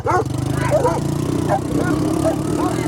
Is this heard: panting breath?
no